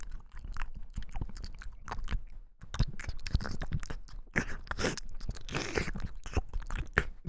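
A person imitates the squishy stirring of mac and cheese with their mouth, a continuous close, wet, crunchy smacking and slurping texture that grows busier toward the end.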